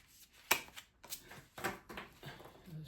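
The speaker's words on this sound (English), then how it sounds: "Let's shuffle one more time" A deck of angel cards is shuffled close by, with a few sharp riffling bursts and soft card slaps in an uneven rhythm, fairly quiet, with no voices.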